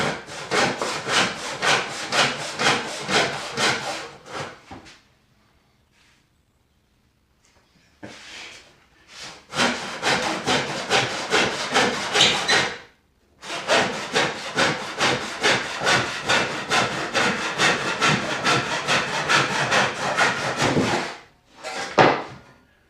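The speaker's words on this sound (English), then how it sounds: "this may just be a boring day of cross-cutting and planing." Hand saw cross-cutting 2x4 lumber for a spice rack, with long runs of fast, rhythmic rasping strokes close by. The runs are separated by short pauses and a few quieter scrapes.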